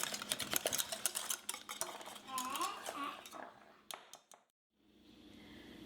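Custard cream for filled donuts is stirred quickly in a bowl with a utensil, giving close, busy scraping and clinking strokes that slow and trail off into near silence before a faint room hiss resumes.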